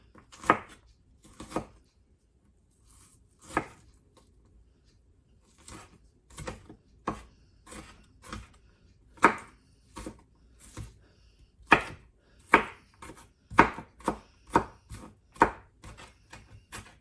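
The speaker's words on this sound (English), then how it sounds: "chop this up finely. And I might not need all this" Knife chopping half an onion finely on a board, with sharp close taps in sparse, uneven bursts that speed into a quick run toward the end, with no talking.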